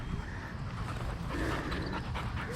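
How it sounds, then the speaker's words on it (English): Several dogs, among them a Doberman puppy, play together a short way off during a pack walk, giving steady panting and breathy scuffling with faint whimpers over continuous outdoor background noise. "Hear the sounds of Luna and Zara playing over there."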